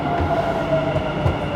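A Dubai metro train runs with a steady, loud rumble and a faint high whine, plus a few soft rhythmic clacks from the wheels; no one speaks over the continuous rolling noise.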